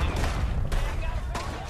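Minigun fire in Red Dead Redemption 2 as a dense, sustained rattle of gunfire with a few sharper blasts standing out, loud and close throughout.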